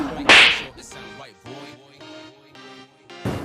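A sharp, loud slap in a comedy sketch, a single crack at the start followed by someone speaking, with another hard hit at the very end.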